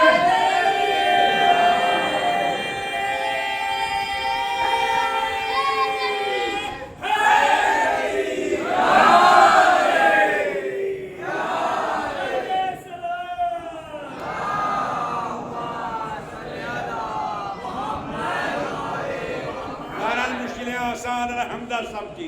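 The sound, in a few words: congregation chanting the slogan Nara-e-Haidari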